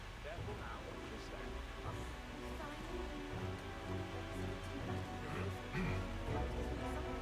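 Steady, dense patter of rain falling on surfaces in the video game Metaphor: ReFantazio, continuous and fairly soft, with faint murmuring voices blended underneath.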